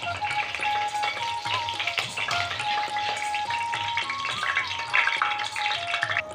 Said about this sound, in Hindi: तेल हमारा गर्म हो गया है, अब इसमें हम डालेंगे अपने खड़े मसाले।